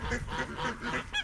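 A few geese give a run of close, rough honks, one after another, with a sharper call at the end and no voices.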